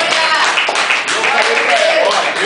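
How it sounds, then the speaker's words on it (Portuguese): A church congregation applauds loudly and steadily, a dense close wash of hand claps running unbroken throughout, with voices mixed into the clapping. "Quem pode aplaudir ao nome do Senhor?"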